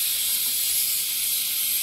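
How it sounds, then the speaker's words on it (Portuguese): A pot of chicken and vegetable soup hisses steadily as it boils, a constant close, bright steam-like hiss with no pauses and no talking. "a panela tá chiando"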